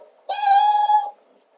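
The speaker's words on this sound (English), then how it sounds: "And the parlor door a little squeak." A parlor door squeak used as a story sound effect: one sustained, high, tonal squeal lasting under a second, fairly loud and clear against near silence.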